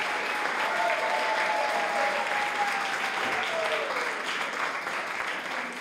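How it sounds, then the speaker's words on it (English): A crowd at a Cape Verdean Association family event for Martin Luther King Jr. Day applauds loudly and continuously, dense clapping filling the hall with a voice briefly calling out over it. "you guys gotta clap better than that for my family"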